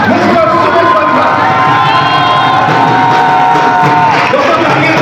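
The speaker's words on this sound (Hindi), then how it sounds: "तालियों की गड़गड़ाहट से स्वागत करेंगे" Loud cheering and whooping from a large crowd at a business event welcoming a speaker, a continuous roar of shouts and voices with high whistles rising above it throughout.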